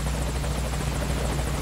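Military helicopter arriving in Metal Gear Solid V: Ground Zeroes, a loud, steady, pulsing rotor thump with a buzzing drone, heard close and alone for a short burst.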